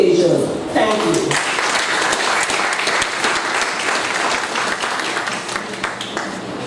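A symposium audience in a hall applauds the director, broad sustained clapping from many people that swells after a brief voice at the start and carries on evenly to the end.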